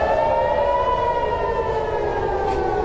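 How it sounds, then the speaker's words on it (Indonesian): A civil defense warning siren wails over Tel Aviv during Iranian missile attacks, a loud, sustained, slowly sliding tone that fills the whole stretch with no talk. "Raungan suara sirine adalah peringatan agar warga segera masuk ke tempat perlindungan"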